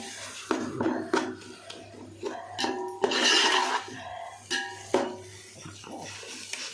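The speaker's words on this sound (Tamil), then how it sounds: "போட்டு நல்லா கிளறி விடுவோம் அந்த எண்ணெயில் நல்லா வதக்கிடலாம்" Masala spices stirred into hot oil in a pan for chicken biryani, with irregular metallic clinks and scrapes of a spoon against the pan and a brief burst of rustling sizzle, close and moderately loud.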